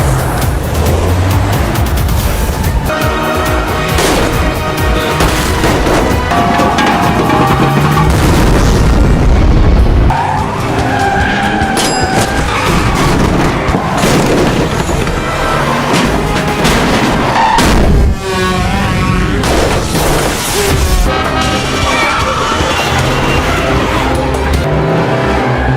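A car speeds away and skids during an action-film escape, a loud, dense wash of engine roar, booming impacts and screeching under a thick movie soundtrack with no talk.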